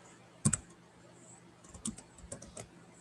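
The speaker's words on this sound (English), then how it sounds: "I go to the command and type in divide," Keys clack on a computer keyboard as a command is entered in AutoCAD, a short quick burst of taps followed by a few scattered clicks, close and quiet.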